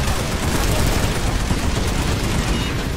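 Continuous rapid gunfire from a PS2 shooter game, a dense unbroken burst of shots filling the whole stretch at steady loudness with no pauses.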